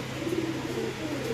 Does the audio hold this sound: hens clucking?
no